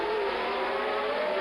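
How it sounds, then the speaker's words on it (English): A 1979 Ferrari T4 flat-12 Formula 1 car at the Long Beach Grand Prix gives a steady, loud, high engine whine that holds constant for the whole stretch, with no voices over it. "look at Villeneuve in the flat 12, new T4 Ferrari."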